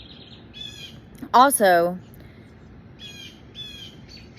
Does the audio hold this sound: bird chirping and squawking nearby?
yes